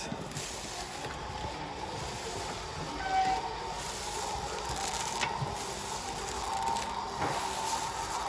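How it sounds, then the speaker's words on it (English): The electric awning motor on a 2012 Cardinal 3675RT RV runs as the awning extends, giving a steady, faint mechanical whir and drone that holds evenly throughout. "that awning will make its way out"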